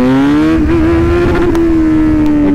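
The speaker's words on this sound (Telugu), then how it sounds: "No clutch, just give the throttle and it is ready to pop." Kawasaki Z900 motorcycle engine holding a loud, steady high rev with a slight rise in pitch as the throttle is held open, close by and continuous with no talking.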